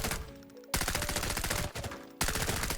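Rapid bursts of VSS suppressed rifle fire in the shooter game Arena Breakout: Infinite, loud and close, three quick strings of shots separated by brief pauses.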